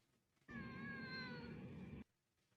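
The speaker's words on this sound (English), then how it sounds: "The cat." A cat gives a single drawn-out meow lasting about a second and a half, clear and close, with a harmonic, slightly wavering tone that starts and stops abruptly against a quiet background.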